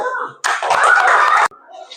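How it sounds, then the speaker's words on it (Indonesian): Schoolchildren in a classroom clapping together, a loud burst of many small hands lasting about a second with a cheer mixed in, framed by quieter voices before and after. "Oke, tepuk tangan dulu."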